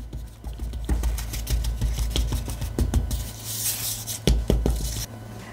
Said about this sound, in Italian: E livellare bene con il batticarne.